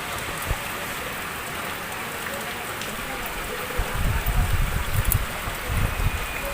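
Heavy rain pours steadily onto a waterlogged, flooded street, with a constant wash of hiss and heavier splashing bursts in the second half.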